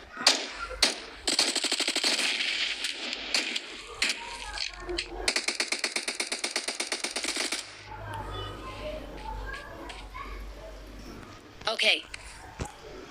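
Video game gunfire in rapid automatic bursts, crisp and close, with two long rattling volleys followed by scattered lighter mechanical clicks and a few single shots, while someone talks.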